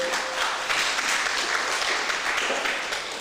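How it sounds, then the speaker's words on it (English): A crowd applauds steadily at a memorial service, a dense wash of clapping that holds at an even level for the whole stretch. "Can we give them a round of applause?"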